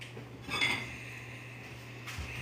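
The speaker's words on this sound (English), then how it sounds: "I'm gonna get a bowl out." A ceramic bowl clinks against other dishes as it is taken out in a home kitchen, a short cluster of bright rattles, then a lighter knock near the end over a low steady hum.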